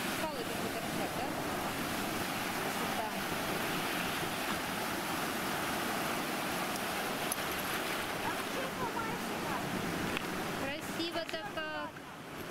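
Waves breaking steadily on a rocky Azov Sea shore in rough weather, a loud continuous roar of surf with wind buffeting the microphone throughout.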